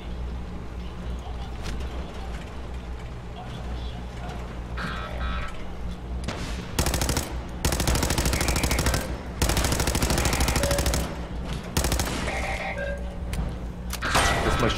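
A machine gun firing in the video game Fallout 4, several long loud bursts of rapid automatic fire broken by brief pauses, following a quieter stretch of game ambience and scattered effects.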